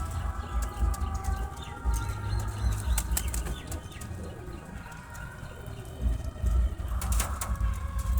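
Lotan pigeons in a loft flutter and flap their wings repeatedly, with low cooing and occasional chirps mixed in at close range and no talking.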